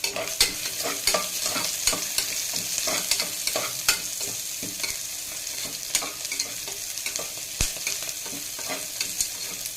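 Onions frying with a pinch of salt in a pan give a steady close sizzle, broken by repeated scraping stirs and clicks of the spatula against the pan throughout.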